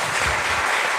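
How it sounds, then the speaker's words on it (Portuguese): Audience clapping at a church gathering, a steady dense patter of many hands filling the whole second without a break or any voices. "Uma salva de palmas"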